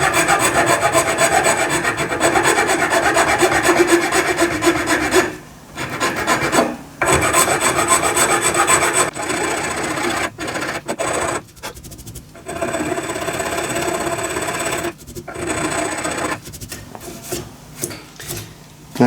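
A cast brass machinist hammer being filed and sanded with emery or glass paper: a steady, close rasping scrape in long continuous strokes, broken by a few brief pauses.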